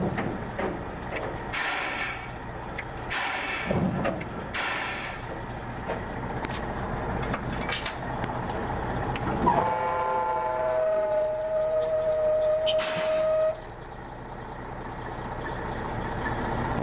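Well-servicing rig machinery put in gear to lower the blocks and elevators, a low mechanical rumble with bursts of hissing air and clanks, then a rising whine-like tone from the drawworks before a sharp hiss.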